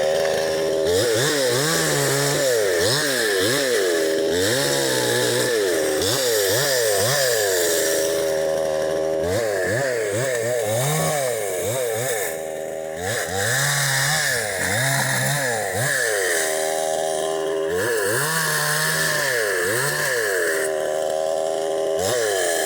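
A chainsaw bucks a felled tree into firewood logs, its engine repeatedly revving up and bogging down through cuts in a loud, close rhythmic pattern, with brief idling lulls between passes.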